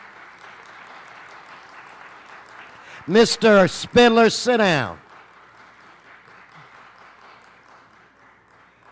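Applause for elementary school students at a city council meeting carries on softly in the background, while someone speaks loudly over it for a couple of seconds midway.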